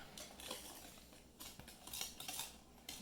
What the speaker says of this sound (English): you just mix all this together with a whisk